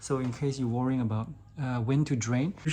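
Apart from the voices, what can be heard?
No everyday noises stand out.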